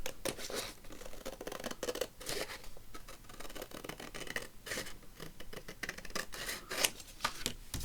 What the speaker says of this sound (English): So I'm just going to cut up there.